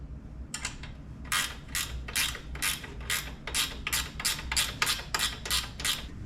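Ratchet wrench tightening bolts on aluminum adventure-spec crash bars on a Yamaha Tenere 700 motorcycle: a steady run of about a dozen evenly spaced, crisp clicking strokes, close and clear, with no talk.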